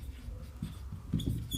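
Writing on a board during a maths lesson: short scratchy strokes and taps, faint and close, in a brief irregular run of marks.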